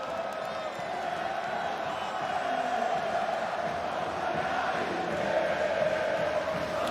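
A large esports arena crowd at an IEM Rio 2022 Counter-Strike match between Cloud9 and Fnatic cheers and roars as a steady, dense wash of noise, with the volume swelling slightly toward the end.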